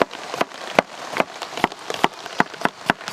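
Rain falls outdoors around a wood-fire cooking spot where a whole large fish curry is being made, heard as a steady wet patter with a series of sharp, regular drip or drop impacts close by.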